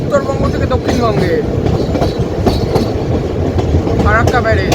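Loud, close rumble of the Malda-Howrah Intercity Express crossing the Farakka Barrage rail-cum-road bridge, heard from inside with a continuous roar and rhythmic wheel clatter, while voices talk faintly in the carriage.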